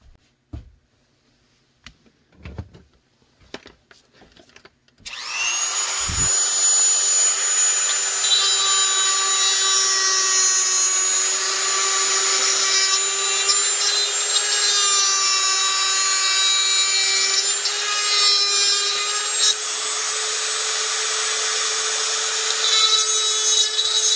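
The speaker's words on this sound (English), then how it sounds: "So use your steel plate as a template. Get your Dremel." A Dremel rotary tool cuts into a holster for a Glock 17 with TLR-1 light, guided by a steel plate template. A few faint taps come first, then a loud steady high whine runs without a break for almost twenty seconds.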